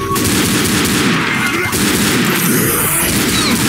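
Rapid pistol gunfire in the zombie shooter Left 4 Dead, loud shots crackling in a dense, nearly continuous volley with heavy in-game noise underneath.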